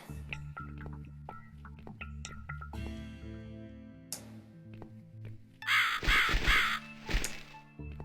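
A bird caws in The Cat Lady video game over a low musical backdrop, giving a cluster of harsh, close caws near the end.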